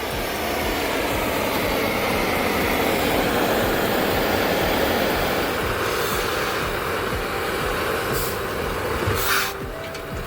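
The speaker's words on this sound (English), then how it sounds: "Firing up the Big Austral, a 20-horsepower oil engine from Ronaldson Brothers in Tippett, built around 1932" A Ronaldson Brothers Big Austral 20-horsepower oil engine, built around 1932, running loud and close with a dense continuous rumble and rapid low thumping, with a few sharp knocks near the end.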